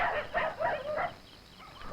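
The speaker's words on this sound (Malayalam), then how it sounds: "നാടൻ പട്ടികൾക്ക് ഇത്ര ശൗര്യം ഉണ്ടെന്ന് എനിക്ക് ഇപ്പോഴാ മനസ്സിലായത്." Native street dogs barking aggressively in a rapid run of several sharp, fairly close barks, easing off into quieter background noise toward the end.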